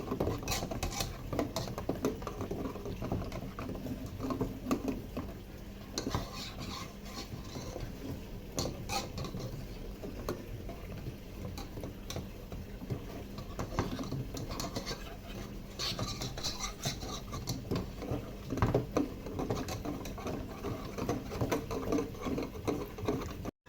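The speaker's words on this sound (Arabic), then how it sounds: "ونقلب حلو عشان التكتلات ما يعملش تكتلات" Béchamel sauce stirred in a pot while butter melts in, a steady run of soft scraping, tapping and clinking from the utensil against the pot, close and continuous with no talk.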